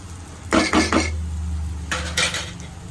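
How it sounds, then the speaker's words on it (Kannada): Spatula scraping and clinking against a pan while rice is stirred into fried eggs, a few quick metallic knocks in two short bursts over a faint steady sizzle. "ಇವಾಗ ರೈಸ್ ಮಿಕ್ಸ್ ಮಾಡ್ತಾಯಿದ್ದೀನಿ."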